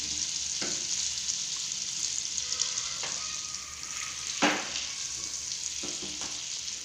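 About 30 grams of butter melting in a pan on low heat, producing a soft continuous sizzle with occasional utensil scrapes and taps, no one speaking.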